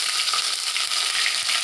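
Bay leaf and whole cumin tempering in hot oil for a taro-leaf dish, a steady, close, bright sizzle with faint crackles throughout and no voices.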